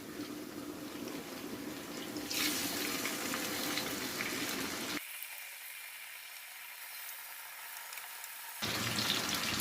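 Fish sizzles in hot oil in a pan as it is flipped, a steady loud frying crackle that cuts out abruptly for a few seconds before the sizzle returns, with no talking.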